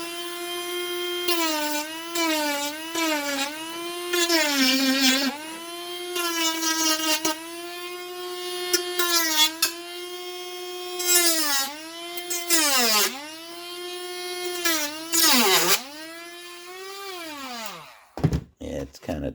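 A small rotary sanding drum whines at varying speeds against a cracked plastic RC car body, its pitch rising and dipping as pressure changes, loud and close, ending in scraping handling noises.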